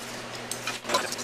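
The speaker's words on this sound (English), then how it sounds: "We're going to mix the dry ingredients." Dry muffin ingredients are stirred in a bowl, giving a brief run of soft scraping with a few light clinks of a utensil against the bowl, close and quiet.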